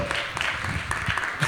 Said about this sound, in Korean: 박수로 맞으시면 감사하겠습니다